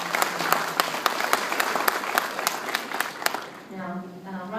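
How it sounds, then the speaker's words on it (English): Audience at a job fair opening ceremony for veterans applauds with a steady wash of clapping and sharp individual claps, fading near the end as a speaker begins talking. "I'd like to give you a round of applause as well"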